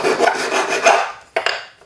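Medium-grit sandpaper rubbed over the edges of a melted sterling silver cuff bracelet, producing close, loud back-and-forth rasping strokes, a brief pause, then a few more quick scrapes.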